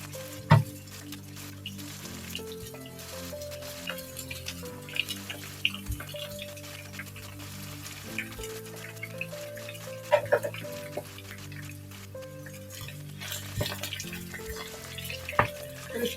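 Chicken and onions fry in a pan, giving a soft ongoing crackle and sizzle with scattered sharper pops and clinks, heard under steady tonal background sounds.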